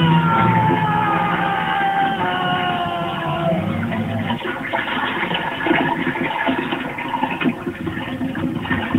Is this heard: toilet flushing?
yes